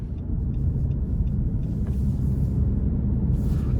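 Steady low road rumble from inside a 2021 Nissan Rogue Sport SV with a 2-liter naturally aspirated four-cylinder, heard alone as a constant engine and tire drone while driving.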